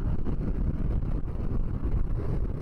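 A 2019 Harley-Davidson Softail Deluxe cruises down the road with a deep, steady engine rumble buried in heavy wind roar. The sound is loud and continuous and has no distinct gear change.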